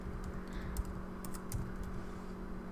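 Keys tapped on a computer keyboard while a plugin name is entered, a short run of quiet, close clicks over a steady low hum in a room.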